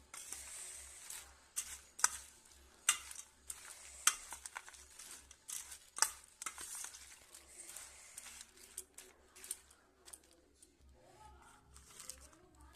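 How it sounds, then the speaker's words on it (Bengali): Chaat being stirred and mixed in a pan after a squeeze of lemon juice, faint scraping and crinkling taps in an irregular rhythm against a low hum, with a quiet voice near the end. "মিক্স করে নিই।"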